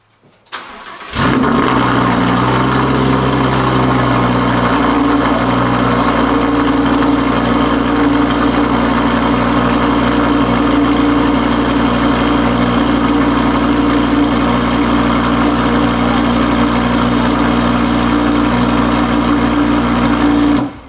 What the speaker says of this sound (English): my boy's gonna give y'all a cold start here in a minute